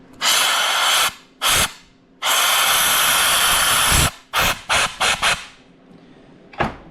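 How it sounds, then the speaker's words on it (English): Soapy water sprayed in bursts at a leaking clutch seal on a John Deere 4050 tractor under pressure: two long hissing blasts and one short one, then a quick run of short spurts and a final puff, close and loud. "If I spray some soap water around there and give it pressure again."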